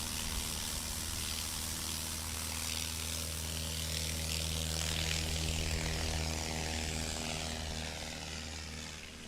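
Light propeller aircraft flying at a STOL competition at Patriot Airpark in Pocola, Oklahoma, a steady droning engine hum with strong low harmonic tones, moderately distant and holding level before fading slightly at the end.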